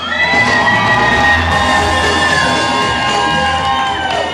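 A large crowd at a student freshman ball cheers loudly and continuously, with whoops, yells and applause blending into a dense, steady roar.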